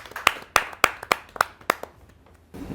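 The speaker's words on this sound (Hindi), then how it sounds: "उनका जोरदार तालियों से स्वागत कीजिए श्री रामउतार बैरवा जी।" Audience at a Hindi kavi sammelan clapping to welcome a poet: about eight crisp, separate hand claps at an even rhythm, close and fairly loud, fading out before a short burst of background noise.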